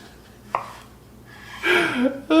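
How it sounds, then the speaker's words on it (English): A knife cuts zucchini into spears on a board, with a few sharp chopping knocks and slicing scrapes spaced unevenly over a quiet background. "so why am I cutting it this way? Because we want spears."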